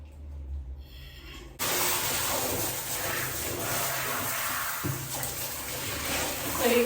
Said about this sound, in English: So now I'm gonna do a rinse on the hair.